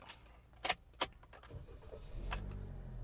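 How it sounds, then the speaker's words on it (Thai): Keys jangle in two sharp bursts before a 2022 Toyota Yaris Ativ 1.2 Sport starts, its engine catching and settling into a low, steady idle heard from inside the car. "ขออนุญาตสตาร์ทรถให้ดูแล้วกันนะครับนะ"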